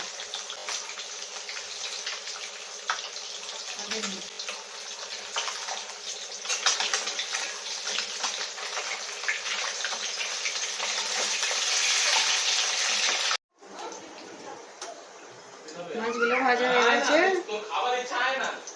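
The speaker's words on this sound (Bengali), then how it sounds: "ডালটা প্রথমে ধুয়ে নেব" Steady running water from a tap pours over lentils being rinsed in a kitchen, a broad continuous wash that holds for most of the clip, then a brief gap and a spoken voice over renewed water.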